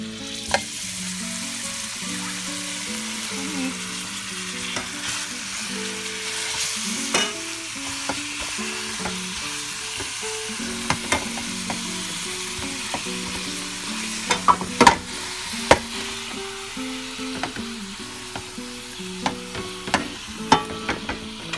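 Garlic, crushed red pepper and ground beef frying in olive oil, a steady close sizzle with frequent scraping stirs and utensil clicks throughout, no voices.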